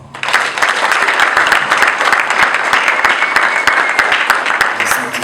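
A wedding audience at a dowry and nuptial blessing ceremony bursts into loud, sustained applause, dense clapping from a large crowd continuing steadily throughout, with voices mixed faintly beneath.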